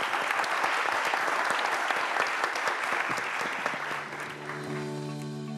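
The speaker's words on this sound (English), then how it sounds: "an applause for our speakers" Sustained applause from a conference audience for the speakers, dense clapping that fades slightly toward the end.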